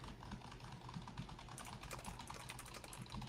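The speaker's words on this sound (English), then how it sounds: "Let's go on Google and start typing in a URL." Fingers type a web address on a computer keyboard in a quick, soft, quiet patter of clicks that speeds up midway, with no talking.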